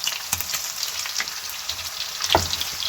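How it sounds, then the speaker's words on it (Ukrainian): Onion sizzles in a pan with pork as it is stirred, a loud close frying hiss broken by scraping stir sounds. "Цибульку додала і гарно перемішую з м'яском, щоб цибулька зм'якла."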